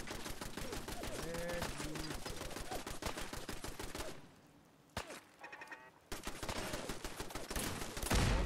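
Rapid automatic turret fire in Fallout 4, dense bursts of shots running almost continuously, dropping out briefly midway before resuming loud, with a faint voice in the mix.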